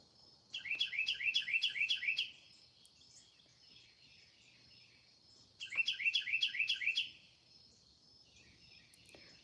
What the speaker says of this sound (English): A female cardinal. It's singing us a song.